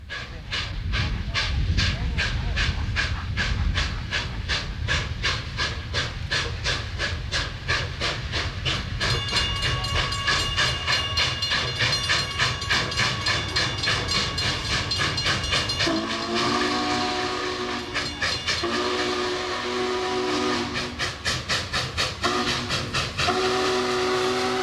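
Union Pacific 844 steam locomotive runs past with rapid rhythmic chuffing and clanking, then a loud whistle blows several times over the rolling train noise.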